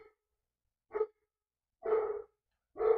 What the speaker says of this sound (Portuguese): Ele não para de latir.